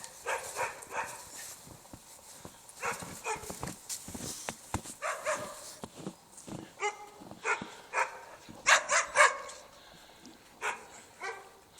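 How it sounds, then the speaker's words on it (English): Several Norwegian Elkhounds bark close by in an irregular chorus of short, sharp barks and yips, with a louder burst of rapid barking near the end. "What a set of dogs."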